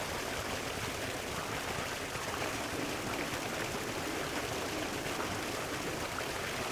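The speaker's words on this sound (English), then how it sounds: "Observe the sound of the waterfall, one of nature's great natural beauties." A steady, full rush of falling water, a waterfall roaring evenly and continuously without pause or voices.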